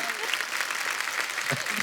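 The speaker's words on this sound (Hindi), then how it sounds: "एक बार हमारे सभी मेहमानों के लिए जोरदार तालियां।" An audience gives dense, continuous applause at a Hindi stage event honouring guests, a steady wash of clapping throughout with a voice briefly heard under it.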